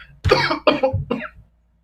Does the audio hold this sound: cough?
yes